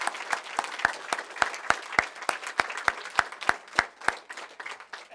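A small audience gives a sparse round of applause for three student winners of an urban heat island grant, with distinct individual claps ringing out in a fairly even rhythm, moderately close and alone.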